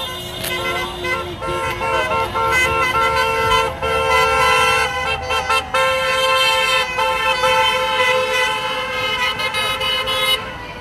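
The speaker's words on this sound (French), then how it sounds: "et ça klaxonne, bravo" Car horns honk repeatedly at a Gilets jaunes protest at the La Barque toll booth, loud overlapping toots and long blasts sounding nearly continuously, with some crowd voices underneath.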